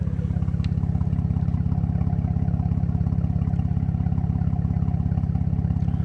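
An unmuffled Jeep JK exhaust with the muffler deleted, idling close up once warmed up, a steady rapid low putter that stays even and mellow throughout.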